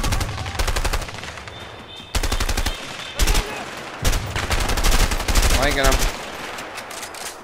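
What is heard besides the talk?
gunfire in the video game A Way Out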